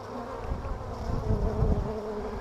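Honeybees swarm around a hive entrance as foragers return carrying pollen, making a dense, steady, close buzz with a gently swelling drone.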